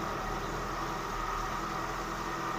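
A Suzuki Katana motorcycle engine idling, with a steady, even drone and low hum that holds at constant level throughout, close by and with no talk over it.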